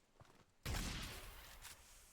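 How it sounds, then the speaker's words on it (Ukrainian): One heavy Fortnite shotgun blast booms after a quiet moment, then rumbles and rings out, with a faint shot echoing near the end. "Новий дробаш. Дивіться, як він стріляє."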